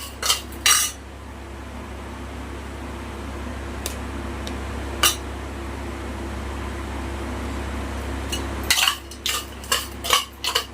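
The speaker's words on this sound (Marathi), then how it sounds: "थोडीशीच हळद घालायची आणि चांगलं मिक्स करून घ्यायचं आपल्याला" A spoon clinks against a bowl while turmeric is mixed into the ingredients, with scattered taps and scrapes over a low steady background hum. The clinks come in clusters near the start and a busier run at the end.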